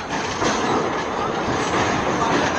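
A DEMU local train in North Bengal nears the Teesta rail bridge, heard as a loud, continuous rumble and clatter of wheels on track, close and steady throughout.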